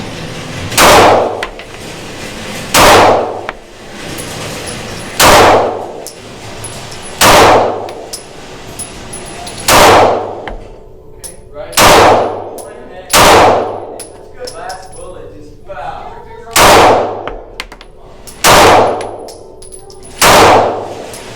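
Swampfox Justice red dot optic on a competition pistol as shots are fired at a target 25 yards away: about ten loud, sharp single reports at a steady rhythm roughly two seconds apart, with faint talk between shots.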